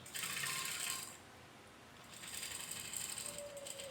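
Sewing machine stitching pant pocket fabric along a folded edge, two quiet bursts of fast, even mechanical whirring with a short lull between them, alone and without speech.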